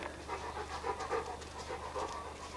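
A dog pants steadily nearby in a workshop where a Bolwell Mk7 car is being stripped for rebuild, rapid rhythmic breaths over a low constant hum.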